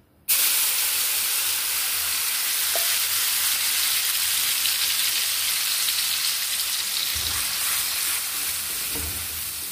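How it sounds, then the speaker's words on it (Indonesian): Ground spice paste sautéing in hot oil: a loud, dense sizzle bursts in suddenly and holds steady and close with faint stirring scrapes, no voices. "minyaknya sudah panas, dan ini bumbu yang tadi sudah kita haluskan ya. Langsung kita tumis."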